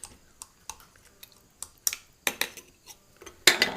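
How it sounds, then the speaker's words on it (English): Home-canned tomatoes are chopped with a metal utensil, giving a series of sharp, irregular clinks and taps against a dish that grow louder toward the end, with no talking. "I'm going to chop them up a little bit here."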